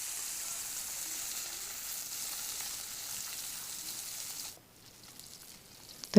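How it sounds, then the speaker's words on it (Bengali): Fish fries in shallow oil in a pan, giving a soft, steady close-up sizzle that suddenly drops away near the end, then a brief clatter. "তো মাছগুলো আমার ভাজা হয়ে গেছে,"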